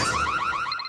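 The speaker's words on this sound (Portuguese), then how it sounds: "Cada palavra do amigo que o Cartman interpreta como ameaça faz o alarme disparar, gerando caos instantâneo" A car alarm from a South Park episode wails in loud, rising and falling electronic sweeps, repeating steadily for the full second with no voices over it.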